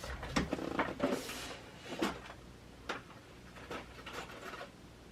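A drawer slides open and its contents are rummaged through, bringing a series of clacks, rattles and scrapes of small items such as beads, close up and without talk.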